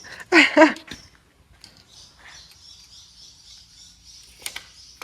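Birds chirp outdoors: a loud burst of calls opens, then a thin, steady high twitter carries on faintly, with a sharp chirp near the end.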